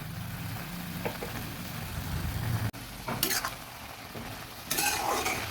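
Red spinach with mustard paste, sugar and a splash of water being stirred in a pan for a veg lal shak charchari, a steady scraping stir over a soft sizzle with a few sharper utensil clinks.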